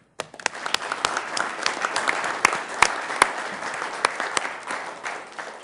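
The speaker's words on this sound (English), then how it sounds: "This round of applause is for all of us Sioux Falls." Dense, steady applause from an audience at a Sioux Falls city council meeting, with a few sharper individual claps standing out and lasting about six seconds.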